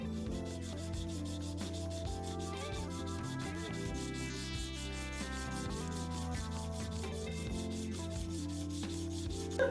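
Wooden ring being sanded against sandpaper, a continuous close rasping rub with rhythmic back-and-forth strokes, steady and moderately quiet with no talk.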